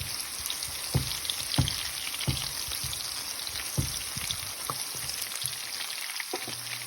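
Onions sizzle steadily in a pan for a beef tripe fry as masala goes in, with crackling oil and scattered soft taps and stirring sounds close by, no one talking.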